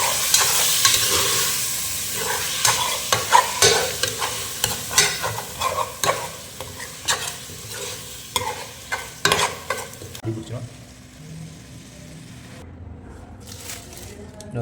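Dry red chillies frying in a pan for a village-style mackerel curry, with repeated crackling and stirring scrapes that fade to quieter frying toward the end.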